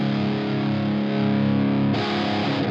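An electric guitar plays through a Blackstar St James amp plugin at a gain setting of 2. The tone is driven and slightly distorted, with sustained chords ringing out up close and a fresh strum near the end.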